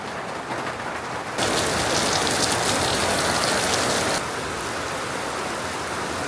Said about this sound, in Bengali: এই যে বৃষ্টি শুরু হলো না,